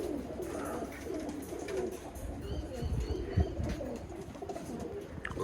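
A Birmingham Roller pigeon hen coos softly in a loft, with low, deep repeated coos over steady background rustle and faint chirps from other birds nearby.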